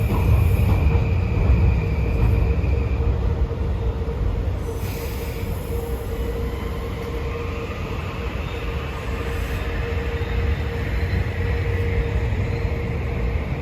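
A Stamford-bound Metro-North commuter train rolling through a station on the Harlem line, a loud continuous rumble of wheels and cars with faint squeal and hiss, steady throughout.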